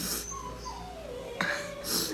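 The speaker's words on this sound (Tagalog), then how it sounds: "Ayun naman, yung aso ko." A pet dog whimpers softly at close range, a thin high whine sliding downward, with faint breathy wheezes and a brief sharper squeak near the end.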